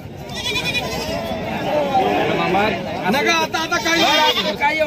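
Goats and sheep bleat repeatedly and overlapping at a busy livestock market in Sangola, with a steady crowd babble of people talking throughout.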